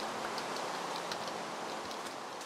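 Rain falling in a desert area in the Minecraft video game, a steady, even hiss of dense drops that fills the whole stretch without pause and with no talk over it.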